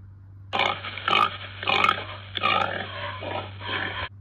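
A pig grunts in a run of rough, rhythmic snorts and oinks, close and fairly loud, continuing for several seconds over a faint background hum.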